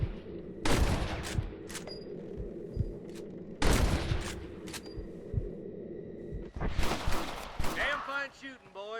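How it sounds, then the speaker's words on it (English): Gunfire in the video game Red Dead Redemption during a ranch shootout: sharp, loud shots crack in separate bursts with echoing tails, and voices shout between them. "Damn fine shooting, boys."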